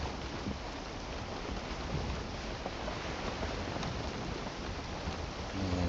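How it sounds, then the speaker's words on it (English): Steady rain in the video game Valheim hisses evenly throughout, dense and constant, with no voices and no pauses. "there's the rain."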